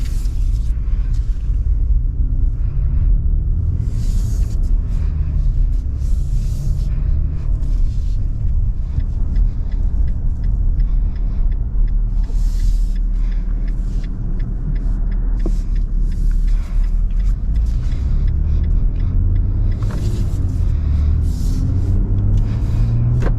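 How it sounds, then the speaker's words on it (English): A 2022 Nissan Frontier PRO-4X pickup on a test drive, giving a steady low engine and road rumble from inside the cab that stays even throughout with no talking. "let's go ahead and take this Frontier on a test drive and see how it does"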